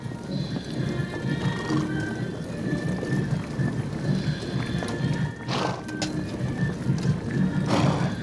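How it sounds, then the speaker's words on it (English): Cavalry horses of a Punjab army regiment gallop past in a parade, a dense continuous drumming of hooves with occasional whinnies and bursts of noise, loud and close with no talk over it. "We now see the Commandant, Colonel Work, now advancing to lead the regiment in the next movement, the gallop past"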